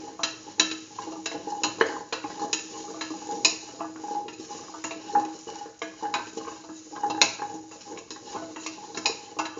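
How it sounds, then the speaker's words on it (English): A spoon stirs lentil pumpkin stew in a pot with soft scraping and irregular clinks against the side, fairly quiet, close and without talk. "Thoroughly mix."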